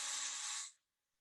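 A drill bites into stainless steel with a short, loud, high-pitched whirring grind lasting under a second, then stops abruptly into silence.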